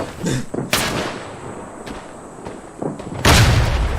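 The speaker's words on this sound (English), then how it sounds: "Throw the grenade, damn it." A grenade blast in the World War I shooter Tannenberg lands as a loud, close boom near the end, following a couple of sharper distant gunfire cracks in a noisy battlefield.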